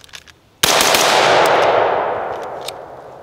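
A single loud rifle gunshot cracks sharply during a high-ready shooting drill, its blast ringing out and decaying slowly over a couple of seconds, with faint metallic pings after it.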